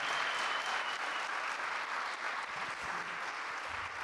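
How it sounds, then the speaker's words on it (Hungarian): Steady, full applause from an audience at an evening event, continuous clapping filling the room without letup. "egy tapsot szerintem mindenképpen megérdemel"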